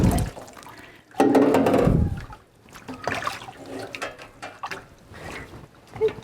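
Water runs and trickles while an Aussiedoodle puppy is bathed, with a loud gushing burst early on, then softer splashing and dripping under intermittent speech close by.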